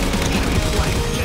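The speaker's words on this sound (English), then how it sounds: "So I'm going to pick up the turret gun right now." A turret gun fires in Halo 4 multiplayer, a loud, dense stream of rapid shots hammering steadily throughout with no pause.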